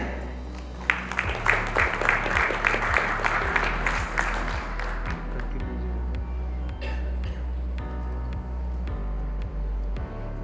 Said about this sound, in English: With your applause, let's welcome on the stage Dr. Manish Shah.